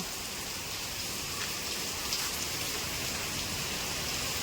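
Rain falls steadily with a soft, even hiss and patter, fairly quiet and unbroken, no one speaking.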